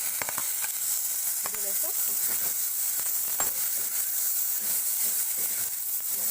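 Chopped ridge gourd frying in a pan and being stirred, giving a constant hiss of sizzling with light scraping clicks, while someone talks briefly over it.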